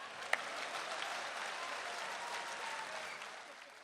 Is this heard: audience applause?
yes